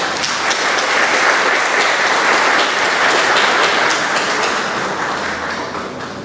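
Audience applause at a formal academic ceremony honouring a graduate, dense sustained clapping from a large crowd that holds steady for several seconds and then eases slightly toward the end, with no voice over it.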